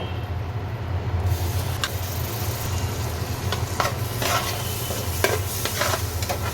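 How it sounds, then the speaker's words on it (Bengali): Onion and garlic paste hits hot oil left from frying shrimp in a home kitchen, bursting into a loud, continuous sizzle with stirring scrapes over a low steady hum. "ওই চিংড়ি মাছ ভাজা তেলের ভিতরেই আমি পেঁয়াজ আর রসুন পেস্ট দিব"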